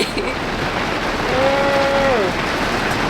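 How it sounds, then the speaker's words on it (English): Steady broadband rain hiss with gusty wind rumble throughout, a brief tonal hum rising and falling in the middle. "Raining and windy"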